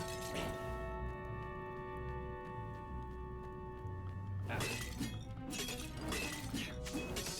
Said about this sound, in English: Smashing things was fun.